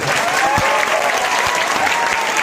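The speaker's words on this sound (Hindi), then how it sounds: "एक बार इसके जोरदार ताली बजाइएगा आप लोग" Loud, steady applause from a large audience at a Ganesh Puja dance program, dense clapping that fills the whole stretch without a break.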